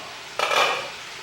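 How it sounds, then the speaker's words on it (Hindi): Mutton frying in a pan on a gas stove with a stirring scrape, a short burst of sizzle and utensil contact rising abruptly, then easing off over about a second, close and fairly soft. "इसे इसमें डाल के फ्राई कर लेंगे लगभग 7-8 मिनट।"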